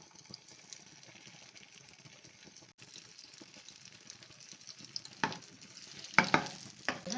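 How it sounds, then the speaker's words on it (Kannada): Brinjal fries in hot oil over a low flame, a faint, steady hiss joined by a few sharper crackles and stirring clatters toward the end, with no one speaking. "ಲೋ ಫ್ಲೇಮಲ್ಲಿಟ್ಟು ಫ್ರೈ ಮಾಡ್ಕೋಬೇಕು."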